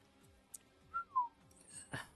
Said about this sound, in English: I don't know if you heard me do the whistle there